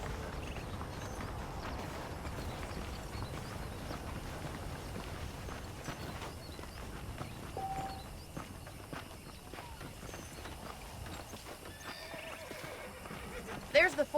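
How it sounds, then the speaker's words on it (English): Saddled horses in Red Dead Redemption clip-clop and whinny around a frontier town in 1911, their hooves faint and intermittent beneath game dialogue. "The horses are saddled up over here."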